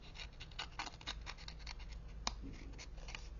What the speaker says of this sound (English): So we want to cut out the edging of it